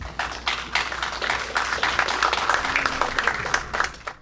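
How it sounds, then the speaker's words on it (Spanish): A conference audience claps in dense, even applause that swells quickly, holds for a few seconds, then tapers off, with a faint murmur beneath. "Un aplauso, por favor."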